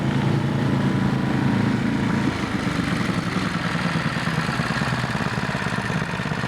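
A snowblower engine runs steadily up close, a rough, even mechanical chug that holds throughout with a slight drop in intensity partway through.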